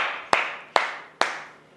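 Three sharp, loud hand claps ring out at a steady, unhurried pace, each leaving a short echo that fades before the next.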